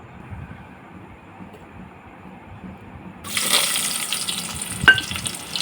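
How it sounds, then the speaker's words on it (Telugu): Onions dropped into hot oil in a pan for chicken masala burst into a loud, close, crackling sizzle after a quiet start, with a sharp clatter near the end. "ముందుగా ప్యాన్ పెట్టుకొని ఆయిల్ హీట్ ఎక్కిన తర్వాత మొదటిగా ఉల్లిపాయలు అయితే వేసుకోవాలండి"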